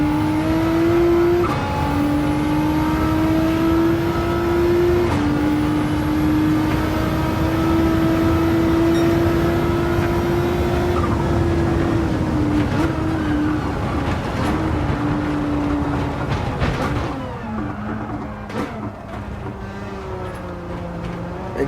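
A race car engine in Gran Turismo 7 holds a steady high whine through a downhill run, pitch shifting with gear changes and braking into a corner, loud and continuous with brief drops as speed falls.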